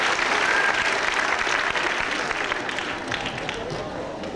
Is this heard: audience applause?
yes